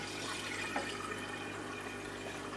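Tap water runs steadily into an aquarium basin being refilled during fish tank cleaning, a faint, even hiss and trickle with no talking.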